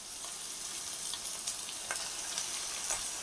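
Cucumber, brinjal and tomato pieces sizzle steadily in a tempering of softened onions for a cucumber-brinjal curry, a continuous close hiss with faint crackles and no talking.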